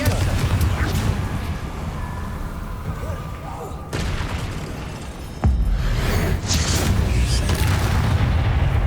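Fire spell explosions from the Hogwarts Legacy video game burst in a quick series, booming blasts layered over busy combat effects, with a sharp loud impact near the middle and a shouted incantation.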